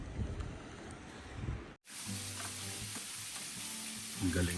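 Homemade french fries sizzling and crackling in hot oil, a close, continuous frying hiss that cuts briefly, then resumes with a few louder pops near the end.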